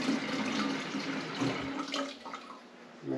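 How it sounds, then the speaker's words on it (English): Hot tap water runs from a spigot into a bottle to about a pint, a soft steady pour with a slight gurgle toward the end, fairly quiet and unaccompanied by talk. "I'm gonna get about a pint of water in the bottle."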